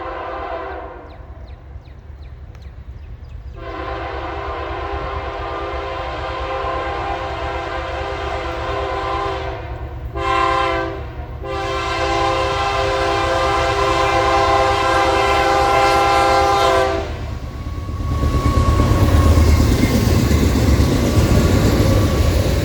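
Norfolk Southern freight train led by SD70 locomotives, its horn blowing long, loud sustained blasts near at hand over rumbling engines, with the roar swelling as the train passes.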